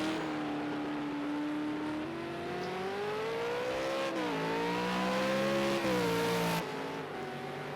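Race cars lapping Spa-Francorchamps in a racing video game, a loud close engine note rising and falling through gear changes and revs, with a second car audible alongside, no voices.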